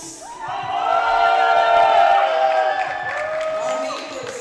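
Audience at a European rifle shooting championship, men's junior 3 positions, cheering and whooping loudly, a swelling crowd roar of many voices that peaks mid-way and trails off.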